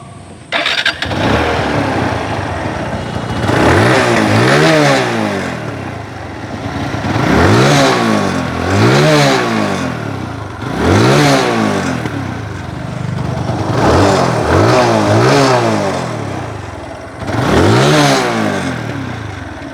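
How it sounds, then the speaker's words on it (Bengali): A second-hand Apache RTR motorcycle engine starts and then revs again and again, each loud, close throttle blip rising and falling over a steady idle, with no speech. "এবার আপনাদেরকে গাড়ির ইঞ্জিনের সাউন্ড শোনানোর চেষ্টা করব।"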